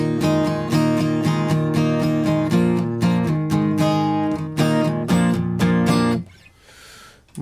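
Guitar playing a song, with steady rhythmic strummed chords, loud and close, stopping abruptly near the end and leaving a brief hiss.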